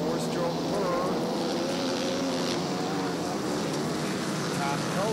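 A KTM 450 four-stroke motorcycle races on an ice track, its engine a steady roaring drone with other bikes blending in, while a commentator talks over it throughout.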